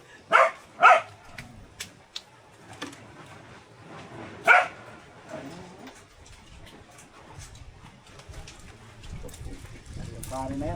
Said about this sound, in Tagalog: Daming aso na yan.